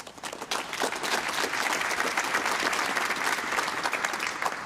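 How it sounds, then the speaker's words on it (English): Audience at the PromCon EU 2024 conference clapping for a speaker, a dense steady round of applause that swells quickly and holds loud to the end. "Please, big applause."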